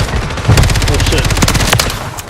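Rapid bursts of automatic gunfire ring out in the battle royale game Apex Legends, loud and close, with a voice briefly talking over them.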